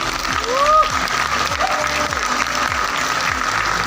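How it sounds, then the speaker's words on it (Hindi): Audience at an award ceremony applauds loudly for a performer, a continuous crowd-wide clapping that stays even throughout, with a few faint tonal sounds and background murmur underneath. "तो एक बार इनके लिए जोरदार तालियां तो बनती है।"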